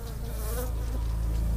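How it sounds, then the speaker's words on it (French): Flies buzzing in a scene from Breaking Bad, a close, steady droning hum that holds throughout without pause. "Oh, des mouches"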